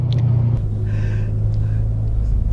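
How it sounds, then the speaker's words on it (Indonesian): A BMW M3 E92 GTS engine rumbles steadily and loudly with a low droning tone, while a voice talks over it. "dia putaran mesinnya itu sampai 8000 RPM"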